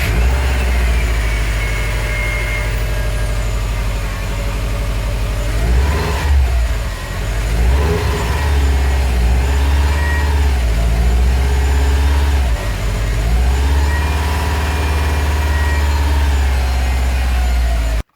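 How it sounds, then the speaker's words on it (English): A 2008-2014 Subaru WRX engine, fresh from a manual transmission replacement, idles loudly up close and is revved several times, its pitch swelling and falling in repeated sweeps over a steady running rumble. "I'm gonna start it up and go through the gears, make sure everything's kosher"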